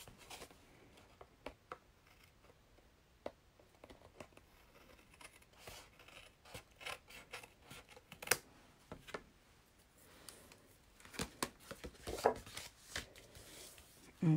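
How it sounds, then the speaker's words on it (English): Scissors trim excess paper from a handmade Christmas card, giving soft, scattered snips and rustles spread across a quiet tabletop scene with no talking. "We're gonna go ahead and cut the excess here."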